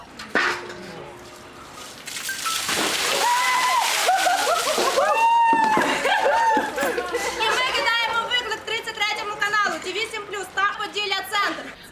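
Buckets of cold water and ice are dumped on TV presenters and journalists of a Ukrainian regional broadcaster during an Ice Bucket Challenge, with loud splashing and sloshing bursts amid excited chatter, shrieks and voices throughout.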